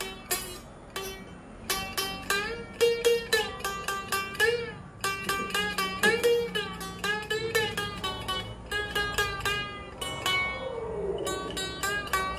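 A Bolaang Mongondow kecapi zither struck with wood or metal gives bright, plucky ringing notes in quick runs and clusters, played alone at moderate volume with light room noise beneath.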